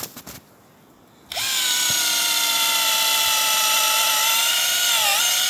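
A power drill bores a tap hole into a maple tree during sap collection in Quebec, Canada; after a brief pause it whines up and runs steadily and loudly for several seconds, with its pitch dipping slightly near the end.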